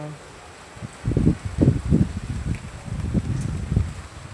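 Wind blows through rain-soaked garden plants with cucumber and pumpkin vines, heard as low gusty buffeting and rustling that starts after a second and comes in uneven bursts, close to the microphone.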